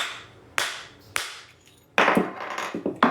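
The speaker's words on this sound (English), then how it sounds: "so I'm going to take this leather hammer." A leather hammer striking a metal punch to knock a coin ring off it, heard as four or five sharp, close knocks with short ringing decays, the last few coming in quicker succession.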